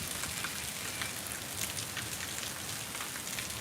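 Rain falls in a steady, even hiss of countless drops striking the ground, soft and fairly distant, with no other sounds breaking through.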